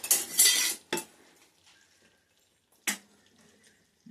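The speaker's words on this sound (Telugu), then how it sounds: "ఇప్పుడు బూందీ పోసుకు పోసుకుంటూ కలపాలి" A spoon scrapes and clinks in a pan as boondi is stirred into sugar syrup for Diwali laddus, with a loud scraping burst at first, then a sharp clink and quieter sounds.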